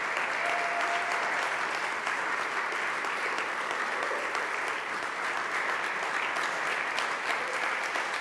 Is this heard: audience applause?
yes